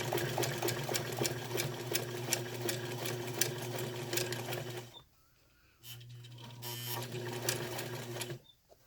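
A hand-crank sewing machine stitches through vinyl appliqué layers, its steady rapid mechanical clatter running loud and close, stopping briefly for under a second before resuming, then cutting off near the end.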